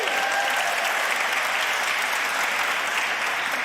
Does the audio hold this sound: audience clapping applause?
yes